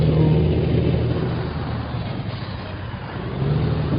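A Kenworth T800 truck in a video game mod drives along, its engine giving a steady, heavy low drone that dips slightly in the middle and swells back up near the end.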